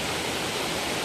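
Waterfall running with low water flow, a steady broadband rush of falling water heard close and even throughout, with no voices over it.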